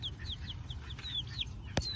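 Chickens clucking nearby, a series of short rising calls over a soft ambient hum, with one sharp knock near the end.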